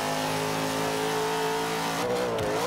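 The engine of a 1979 Chevy Camaro in the Forza 5 racing game roars loudly and continuously at high revs, holding a steady pitch before dipping briefly near the end as the gear changes.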